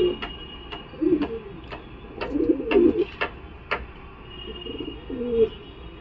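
Pigeons cooing in a loft, a female Madras pigeon among them: several soft low throaty coos in bursts near the middle and end, mixed with sharp ticking clicks and scattered chirps nearby.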